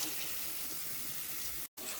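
Tap water runs steadily over tie-dyed fabric in a sink, a continuous close splashing rush that cuts out for a split second near the end and then resumes.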